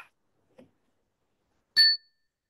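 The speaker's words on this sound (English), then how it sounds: "Could you ring the chime?" A single chime rings out once in a quiet room during a community gathering, a short bright metallic tone that decays quickly in near silence.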